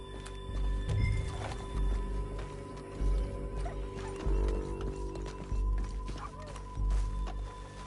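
A horse in Red Dead Redemption 2 beats out steady clip-clopping hooves with an occasional whinny, heard fairly close at a moderate level with a few heavier thuds mixed in.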